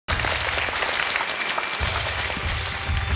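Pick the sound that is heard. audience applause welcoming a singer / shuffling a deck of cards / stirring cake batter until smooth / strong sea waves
audience applause welcoming a singer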